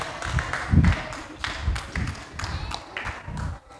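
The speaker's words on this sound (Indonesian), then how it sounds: "Tepuk tangan untuk Raka dan Abinaya." Applause from a seminar audience at an elementary school research presentation, a few seconds of loose, uneven clapping that rises quickly and then thins out before stopping.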